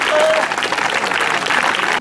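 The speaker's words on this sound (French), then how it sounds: "c'est à nous de vous féliciter et de vous applaudir" An audience at an adapted sports inter-school games event applauds, a dense, continuous patter of many hands clapping at close range for a couple of seconds.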